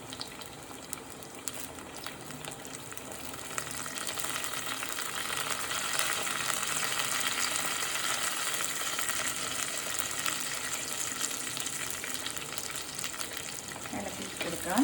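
Curry leaves drop into hot oil for a Kerala fish curry, and a soft hiss rises after a few seconds into a sustained, moderately close frying sizzle with light clatter, heard without talk.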